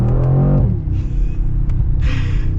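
A 2022 Mercedes G63 G-Wagon engine rumbles low and loud, close by, with a deep steady growl and a couple of higher bursts as it revs.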